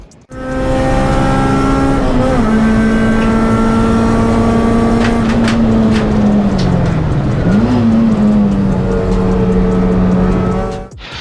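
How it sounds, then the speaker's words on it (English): A 240 bhp Honda Civic Type R EP3 with its VTEC engine revs loud and close, holding a steady high note, dipping once and climbing back before cutting off, with no one talking over it. "So it sounds like a cracking engine"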